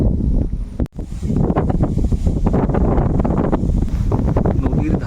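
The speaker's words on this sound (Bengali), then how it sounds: "এত বেগে হাওয়া হচ্ছে নদীর জলের উপরে" Strong wind gusting over a river in the Sundarbans, a steady loud roar buffeting the microphone for several seconds with a brief dip near the start.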